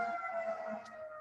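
Emergency sirens outside wail in a steady tone, heard faint and muffled through a room, sustained for about a second with no talk over it.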